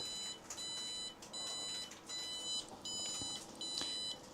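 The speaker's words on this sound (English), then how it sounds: "restarted and it's beeping with an error" A Prusa Core One 3D printer sounding an error alarm, repeated high electronic beeps in short evenly spaced bursts over faint background hum.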